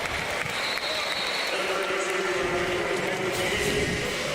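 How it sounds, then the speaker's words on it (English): A stadium crowd at a Miami Hurricanes versus Ball State college football game roars and applauds steadily after a made field goal, with a commentator talking over the broad, continuous noise. "Applause from their head coach, Mario Cristobal"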